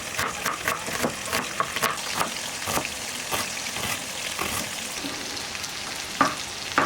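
Chicken pieces frying in hot oil in a wok, a steady close sizzle broken by repeated sharp scrapes and stirring taps of a utensil against the pan.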